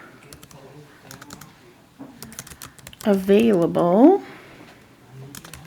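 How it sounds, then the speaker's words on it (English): Computer keyboard typing comes in scattered bursts of clicks as someone types a sentence, interrupted midway by a person speaking. "So I have to type a description of this graph in words."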